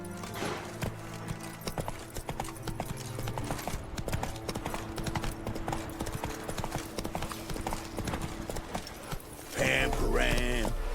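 Horse hooves clip-clopping in The Witcher 3: Wild Hunt, a steady run of close rhythmic hoof strikes over game ambience, ending with a louder burst of other game sounds.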